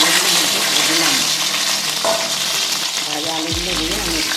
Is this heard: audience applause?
no